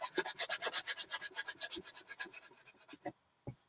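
Cracked old paint is sanded off by hand in a quick run of steady rasping back-and-forth strokes, close and fairly loud, slowing to a few separate scrapes before stopping.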